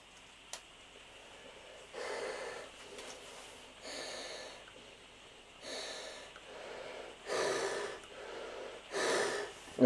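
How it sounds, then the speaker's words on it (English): Breathing through a 3M 7500 half-face respirator fitted with P3 particulate filters: five or six slow, close, airy inhales and exhales with brief rustling gaps between them. "breathing resistance is very easy, just to demonstrate that"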